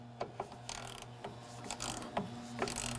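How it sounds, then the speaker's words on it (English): A torque wrench ratchets as it tightens a bolt during replacement of the A/C condenser cooling fan on a 2004-2015 Nissan Titan, giving a few sharp close clicks and short ratcheting bursts, with no voices. "Now torque this to 54 inch pounds."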